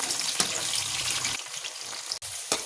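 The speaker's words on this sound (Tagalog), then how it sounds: "Sa mainit na kawali ay maglalagay lang tayo ng mantika at saka natin siprito yung sweet" Sweet potato frying in hot oil in a pan, giving a steady broadband sizzle that thins out partway through, with a few sharp clinks and crackles scattered across the short stretch.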